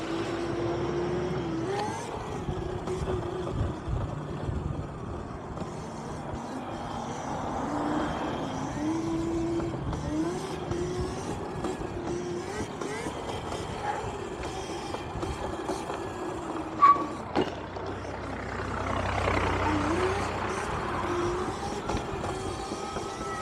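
Town street traffic heard while riding a bike through it: a steady, droning blend of vehicle engines and road noise, with engine tones rising and falling as cars pass close by.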